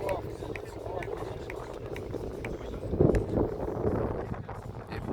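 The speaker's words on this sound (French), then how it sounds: "Pas mal de vent là, tout d'un coup ça se remet à souffler fort" Strong wind gusts roar and buffet the microphone outdoors at an ultimate frisbee match, a rough low rumble that swells near the end, with a commentator talking over it.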